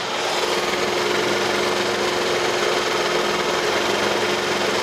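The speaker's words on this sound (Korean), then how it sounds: "엔진 소리 바로 들려드릴게요." Kia Ray city car idling with the engine bay open, a steady, even motor hum with a light mechanical whir that stays constant and close throughout, no voices.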